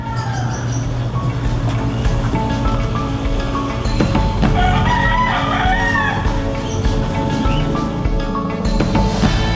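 Chickens clucking and a rooster crowing on a poultry farm range area, a busy continuous chorus of fowl calls close by with a faint vehicle hum underneath.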